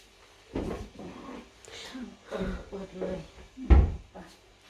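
A door is opened, making a short wooden thump and clatter while people talk nearby.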